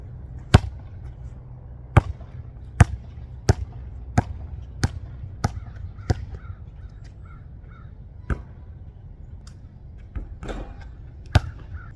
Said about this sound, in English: Shooting some hoops with the leaves.